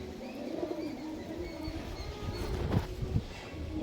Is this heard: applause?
no